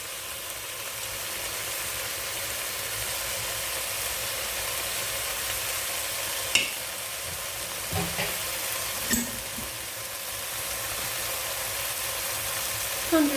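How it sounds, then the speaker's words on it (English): Barbecue sauce poured into spare ribs in a hot pan and stirred, giving a steady, even sizzle throughout with a few soft clinks of the spoon against the pan. "I'm adding 100 mils of barbecue sauce"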